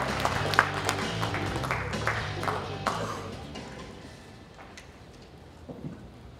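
Crowd applause greets a candidate stepping up at a Democratic Party leadership rally in Jeju, a broad wash of clapping that swells early and gradually thins out, with some voices mixed in.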